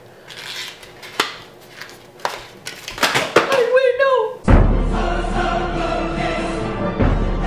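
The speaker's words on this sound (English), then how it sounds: "you drop your highlight?" A makeup highlighter compact dropped onto a hard surface, landing with a sharp clack among a scatter of lighter taps and knocks, followed by someone talking.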